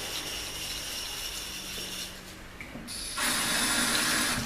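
Tap water runs steadily into a kitchen sink while plates are rinsed, a close, continuous hiss that swells louder partway through as the flow strikes the surface.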